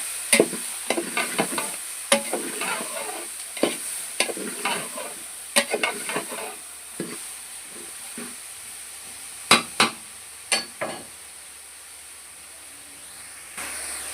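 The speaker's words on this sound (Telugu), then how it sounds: "కలుపుకున్న తర్వాత టమాటా వేసుకోవాలి సరిపడ మళ్ళీ కలుపుకొని కింద మాడకుండా చూసుకోవాలి" Tomatoes being stirred in a pan for Telangana-style sambar, with a run of sharp spoon scrapes and clacks over a soft sizzle, denser early and thinning out to quiet frying by the end.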